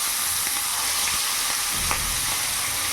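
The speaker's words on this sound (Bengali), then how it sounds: "তেল গরম হয়ে গেছে, এক এক করে মাছগুলো দিয়ে দেবো" Fish frying in hot mustard oil in a wok, a loud, steady sizzle with scattered pops and light clatters of stirring, heard close with no voices.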